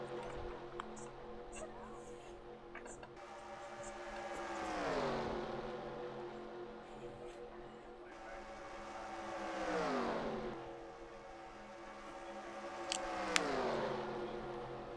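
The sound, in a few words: race cars on track in a racing video game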